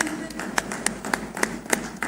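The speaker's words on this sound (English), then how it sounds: "A huge round of applause, ladies and gentlemen." Audience applause at an India AI Hub groundbreaking ceremony in Tarluvada, Visakhapatnam, heard as sparse, separate claps spaced through two seconds against a low murmur of crowd noise.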